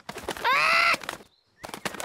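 A cartoon parrot gives a loud, bright squawk of about half a second, set between stretches of animated dialogue.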